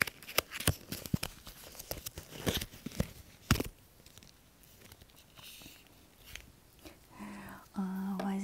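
A packaged makeup brush case is torn open up close in a quiet ASMR setting, with crisp crackling and ripping snaps in quick bursts, then softer rustling.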